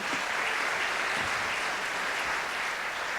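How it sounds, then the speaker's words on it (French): Applause from an audience at a study and training day in Béziers, a steady, even wash of many hands clapping for a few seconds. "Je vous propose de les applaudir."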